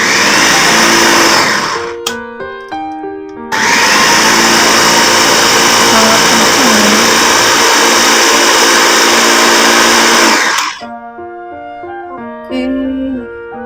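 Emily electric food chopper running at speed 2, a loud steady motor whine that fills most of the clip, stopping briefly near the start and cutting off near the end.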